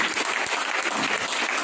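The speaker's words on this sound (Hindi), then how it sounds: "जोरदार तालियां बजाइए" Dense, loud crowd applause fills the room without a break, a thick continuous roar of many hands clapping together with no talk over it.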